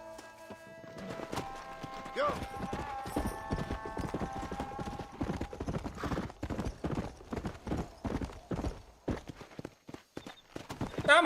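Horse hooves clip-clopping steadily in Red Dead Redemption on Xbox Series S, a continuous run of hoofbeats with an occasional whinny, while players talk over it.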